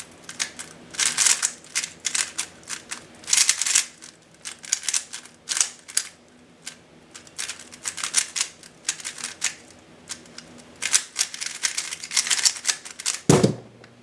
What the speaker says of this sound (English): So this cube is generally really loud.